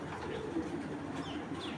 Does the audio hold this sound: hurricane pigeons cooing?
yes